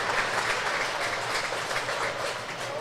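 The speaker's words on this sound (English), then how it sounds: "applauding her off the court as she's taken away with her physio" Players and spectators at an Israel vs Switzerland netball match applaud steadily as an injured player leaves the court, a dense, continuous wash of clapping in an indoor arena.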